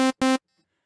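A Native Instruments Massive software synthesizer plays a new patch as two short, buzzy, harmonically rich notes in quick succession, close and loud, followed by silence and no voices.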